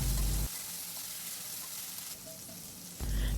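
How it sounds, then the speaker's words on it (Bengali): Okra fries in a pan with salt and turmeric, giving a steady close sizzle throughout with louder bursts of crackle at the start and end. "একটু নুন আর একটু হলুদ দিয়ে ঢেঁড়সগুলোকে ভালোভাবে ভেজে নেব"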